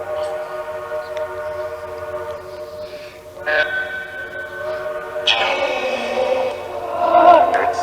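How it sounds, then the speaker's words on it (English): A nearby train sounds its horn beside a cemetery, the long steady whistle tones swelling louder in bursts over the rumble of the passing cars. "Do you like hearing the train whistles?"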